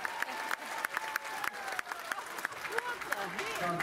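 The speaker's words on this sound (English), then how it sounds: "Give Dante a round of applause" An audience claps steadily and rhythmically as a guest is welcomed onstage, the sharp regular claps running under voices and background sound at a moderate, slightly distant level.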